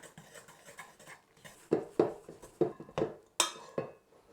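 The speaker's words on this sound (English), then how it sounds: "Just pop your dry ingredients in and get your hook and just mix it round." A dough hook stirred by hand through dry baking ingredients in a bowl gives a series of sharp metallic clinks and scrapes against the bowl, several in quick succession, close and fairly quiet, without talk.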